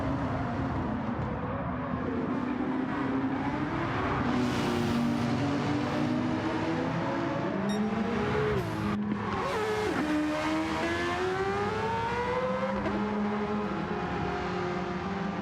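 A Nissan S14 race car lapping Tsukuba circuit, its engine droning steadily and rising and falling through gear changes, loud and close throughout with a brief lift and recovery.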